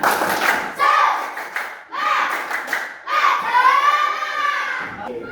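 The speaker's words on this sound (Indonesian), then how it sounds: "Oke, tepuk tangan untuk kita semua. Tepuk semangat." A classroom of children performs a rhythmic clapping chant, tepuk semangat, with bursts of clapping mixed with shouted chanting voices in uneven phrases, close and lively.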